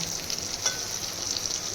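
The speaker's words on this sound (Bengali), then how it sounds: "বেগুনের এই কালো দিকটা তেলে আগে দিয়ে দেবেন তাহলে ভাজতে অনেক কম তেল লাগবে" Eggplant slices fry in oil with a steady close sizzle and faint popping throughout, with no voices.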